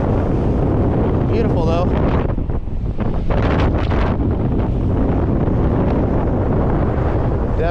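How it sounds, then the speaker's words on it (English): Strong wind blasts across a beach, roaring and buffeting the microphone continuously and loudly, with faint surf beneath and someone briefly speaking. "Unless the wind would stop, then it would be really great."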